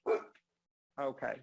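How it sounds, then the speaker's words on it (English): A pet dog barks a few short, muffled times in a home during an online lecture, with a brief bit of speech nearby at moderate distance. "I apologize for my dog who's barking."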